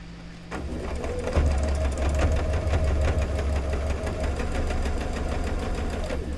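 A sewing machine stitches through quilt pieces, starting after a brief pause and then running steadily with a rapid, even needle rhythm and low motor hum, close and fairly loud.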